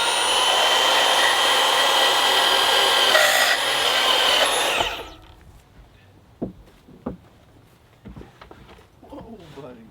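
A power saw cuts a deck stair board with a loud, steady whine for about five seconds and then stops abruptly. Afterward come scattered knocks and handling noises, with a voice briefly heard.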